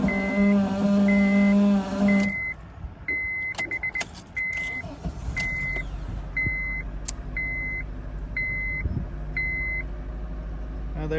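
A 2004 Honda CR-V with a failing starter whines and grinds as it cranks for about two seconds, then a run of repeated electronic chime beeps and clicks follows over a low idling rumble.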